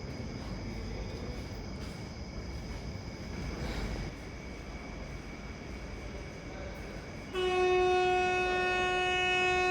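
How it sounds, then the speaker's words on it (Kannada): An express train rumbles steadily as it passes through Arsikere station, then a loud sustained horn blares with strong tones for the last few seconds. "ಆ ಟ್ರೈನ್ ಜಸ್ಟ್ ಕ್ರಾಸ್ ಆಗಿದೆ ಇವಾಗ"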